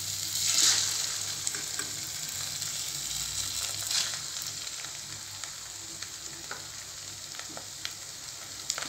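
Egg frying in spiced masala in a pan for egg podimas, giving a steady close sizzle with a few light stirring scrapes and no voices.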